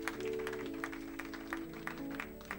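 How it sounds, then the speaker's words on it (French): Church congregation clapping in a quiet, fairly rhythmic pattern of separate claps over sustained musical tones, faint and distant, with no clear speech on top. "sous vos acclamations s'il vous plaît"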